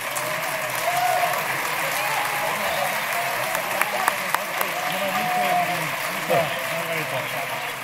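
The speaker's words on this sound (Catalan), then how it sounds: "Un aplaudiment a Valer Gisbert, que ha creat aquest espectacle en un temps rècord." Audience applauding the creator of a stage show, steady sustained clapping from a crowd filling the whole stretch, loud and close with a few sharper individual claps standing out.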